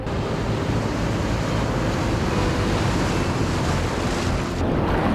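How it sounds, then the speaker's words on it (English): Ocean surf pounds steadily at Pismo Beach, a dense continuous roar of breaking waves with wind buffeting the microphone, loud and close throughout with no voices. "You making waves, Eli?"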